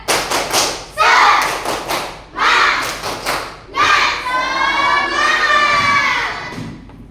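Children in a classroom clap a rhythmic spirit-clap pattern in loud bursts, some shouting along between the sharp clustered claps.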